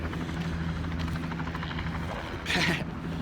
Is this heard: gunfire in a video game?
no